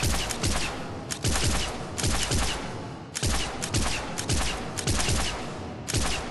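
An Arc Pistol fires in Mass Effect 3, giving repeated bursts of crackling electric gunfire in steady, evenly spaced volleys with heavy noisy blasts and no talking.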